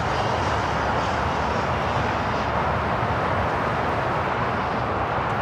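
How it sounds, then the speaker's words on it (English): An Emirates Airbus A380 takes off from Los Angeles airport, rolling down the runway with a loud, steady, broadband engine roar that holds constant throughout, close and unbroken. "the Emirates A380 Super up next"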